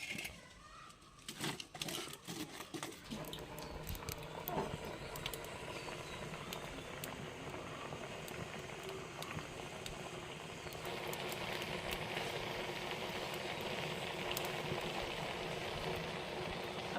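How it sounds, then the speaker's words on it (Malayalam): A steady bubbling simmer of water boiling in a pot with bananas, a continuous dense hiss and patter that grows slightly fuller toward the end. "ഇതൊന്ന് വേവട്ടെ ഈ വെള്ളത്തിൽ കിടന്ന് ഈ പഴം ഒന്ന് വേവണം"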